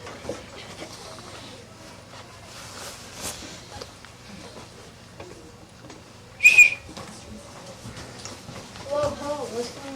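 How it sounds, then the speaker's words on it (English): A police officer's whistle blown during a school play in Ashland gives one loud, shrill burst midway, with stage voices talking around it. "maybe we heard your whistle"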